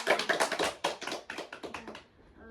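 A small group in a classroom session claps for a student named Elvi, quick close hand claps in a brief irregular burst that thins out and stops after about two seconds.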